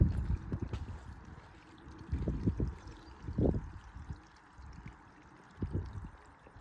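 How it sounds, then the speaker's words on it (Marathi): Rainwater runs down from the hills into a pond, a soft, low gurgling flow with uneven splashy surges rising and falling, fairly close and heard on its own. "आवाज मंद असा पाण्याचा आवाज येतोय आणखी पण"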